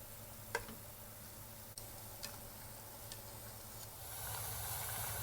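Bánh cam sesame balls made with wheat flour deep-fry in oil with a faint, steady sizzle and a few soft ticks, growing slightly louder near the end, with no talk.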